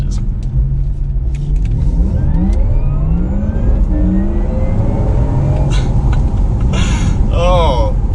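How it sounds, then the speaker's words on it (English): A Porsche Taycan Turbo electric car accelerates hard with a rising motor whine that steps through gear changes, loud and close over road rumble, with a brief voice and other noises near the end. "I hope you can hear the gear change"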